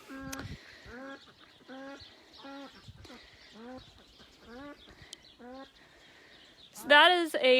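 An old backyard hen clucks in repeated short bursts, fairly close, alone in the coop yard, followed by a louder sharper squawk near the end.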